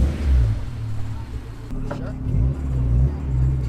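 A Honda S2000 fitted with a GReddy Revolution RS exhaust revs nearby with a deep, rumbling engine note that swells and falls across a few throttle blips, with people talking over it.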